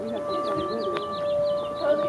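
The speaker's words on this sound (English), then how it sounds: "That was also the siren they ran when they were launching the nuclear warhead." A civil defense siren sounds at noon in a rural area where chipmunks are common. It is a steady wailing tone heard from a distance, with birds chirping over it, and no one speaks.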